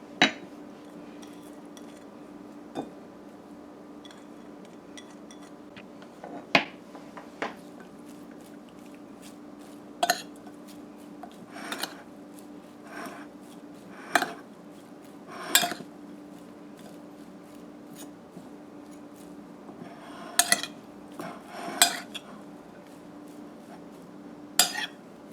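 Shrimp choka is mixed in a bowl, with scattered light clinks and taps of a utensil against the dish at an uneven pace over a faint steady hum.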